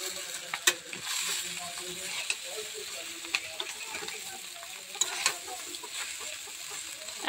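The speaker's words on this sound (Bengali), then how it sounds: "এই অবস্থায় আমি মশলাটা দিয়ে দেবো, চাউমিন মশলাটা। এবার নেড়ে চেড়ে সব মিশিয়ে নেব।" Egg chowmein being stirred and tossed with chowmein masala in a hot pan, a steady sizzle punctuated by sharp clacks and scrapes of the spatula at irregular intervals, no voices.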